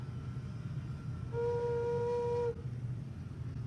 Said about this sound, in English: that was a really good whistle